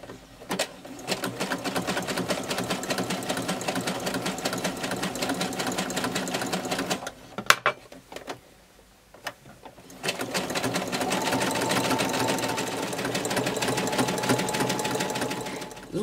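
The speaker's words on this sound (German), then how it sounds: "würde dann mit einem engen Zickzackstich das hier befestigen" A sewing machine runs a tight zigzag stitch, whirring steadily and rapidly, pausing briefly with a few clicks, then resuming for another long run.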